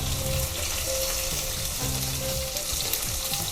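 Chopped onions and green chillies sautéing in a hot pan for chickpea curry, a steady dense sizzle with a faint stirring rattle, continuous and close.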